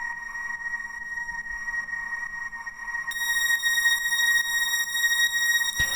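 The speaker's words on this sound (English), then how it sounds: "we got a saw wave and then a square wave an octave down" Synthesizer tone layering a saw wave with a square wave an octave lower, fed through a formant filter, for a hard house track: a steady sustained buzzy drone that brightens and swells as a higher layer enters midway, then cuts off abruptly.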